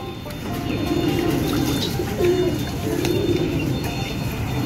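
A silver male pigeon coos to a female racing pigeon in hot weather, low rolling coos repeating a few times under a steady wash of background noise.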